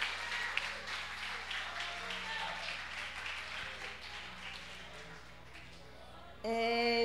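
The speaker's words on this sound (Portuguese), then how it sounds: "quem entendeu, dê um aplauso para o nosso Senhor Jesus Cristo" A church congregation at a women's service applauds faintly and steadily for about six seconds, the dense patter fading slightly before music abruptly begins.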